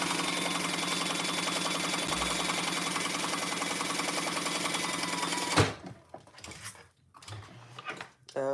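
A sewing machine runs a long, steady stretch of top stitching at close range, then stops abruptly, leaving quieter handling sounds and brief voices.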